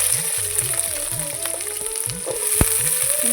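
Small shallots frying in a pan for a South Indian prawn kulambu, a bright continuous sizzle close up, with rhythmic low scraping strokes of a stirring spoon and one sharp knock.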